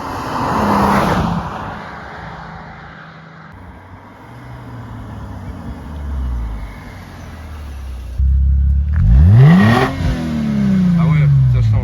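A Mercedes C350 Lorinser engine revs outside, rising and falling in a couple of strong bursts with a sharp climbing sweep near the end, while people talk over it.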